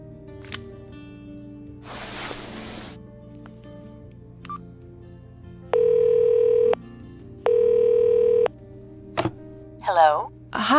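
A telephone is dialed and rings in the video game Cognition, with scattered clicks and a rushing burst first, then two long steady electronic ringing tones separated by a short pause, followed by brief noises.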